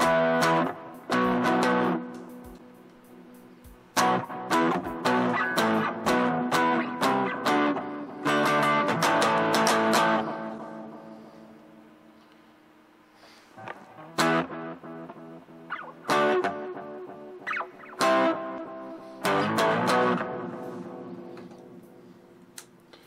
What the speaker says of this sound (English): you can use a distortion pedal on your system